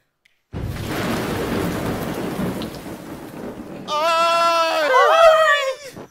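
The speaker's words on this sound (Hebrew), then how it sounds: "איזה מזג האוויר נורא. גשם." Steady, dense rain hiss with a thunderstorm rumble, a theatre sound effect from a stage production of The Snow Queen. About four seconds in, a wavering, bleating tonal wail rises over the downpour before it cuts off.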